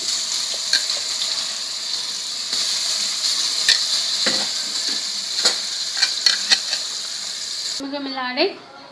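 Garlic slivers and curry leaves fry in a hot tempering pan with chutney then added, giving a steady close sizzle broken by scattered crackles and stirring clicks, ending in a wet splutter as the chutney goes in.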